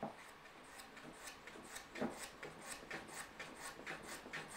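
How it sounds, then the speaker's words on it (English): A hand plane shaves wood on a shooting board in a woodworking shop, making soft, repeated rasping strokes in a steady rhythm. The sound is faint and close, with no talking. "planing the top"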